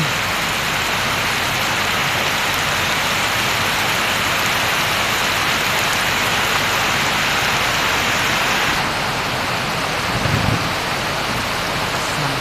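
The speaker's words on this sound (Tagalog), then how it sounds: "Sa ganyang kalakas ng ulan at kalaki ng patak ng ulan" Heavy rain pours steadily in a dense, continuous hiss, loud and close, with a brief low rumble near the end.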